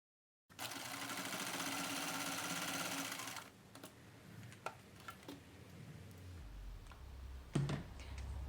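A sewing machine stitches quilt scrap pieces in one continuous run of about three seconds, a soft steady whir up close, followed by scattered clicks and light handling noises in a quiet room.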